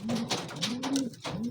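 Pigeons coo in a close, continuous run of soft, low, rolling calls with short breaks, from a flock of white pigeons; no one speaks.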